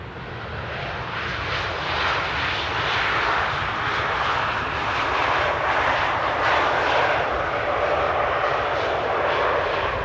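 A China Airlines Airbus A330 arrives at Amsterdam airport at sunset, its jet engines producing a loud, continuous broadband roar that holds steady throughout with no voices.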